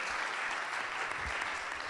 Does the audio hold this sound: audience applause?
yes